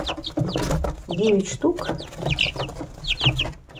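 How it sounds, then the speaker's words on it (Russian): Sixteen-day-old chicks peep and cluck in a home coop, with many short, high chirps repeating irregularly and close by while someone talks over them. "Вот такие вот цыпляточки."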